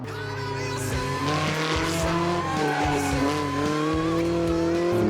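Older-era rally car driven hard on a track with the rear stepping out: loud, continuous engine roar with rising and falling revs and gear shifts, tire squeal and skidding layered over it throughout, no talk.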